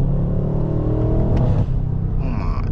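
A BMW M550i V8 revs up close and loud, a deep throaty rumble that rises in pitch and then settles back to a steady idle.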